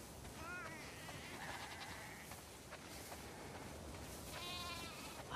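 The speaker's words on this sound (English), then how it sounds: "Wow, that's a lot of sheep." Sheep bleating inside a snowy barn in The Last of Us Part II, two wavering bleats, one early and one near the end, over a constant low background hiss.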